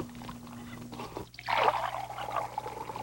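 A quiet steady hum, then white cranberry juice suddenly splashing and trickling out in a short spilled pour that dribbles on for a second or two.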